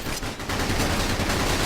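Rapid gunfire from the GameCube war strategy game Battalion Wars, a dense continuous rattle of shots that fills the sound, loud and close, with no talking.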